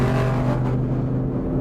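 A stock Ford Mustang Boss 302 with its uprated V8 roars close by, a loud, deep engine note that builds and then eases slightly as it revs.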